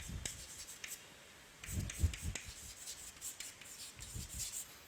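Chalk or marker scratches and rubs across a board as chemistry notes are written, quiet, close strokes in short irregular clusters with brief pauses between them.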